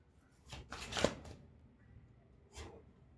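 Tarot cards being drawn and laid out by hand, soft papery slides and taps in a few short bursts, quiet and close.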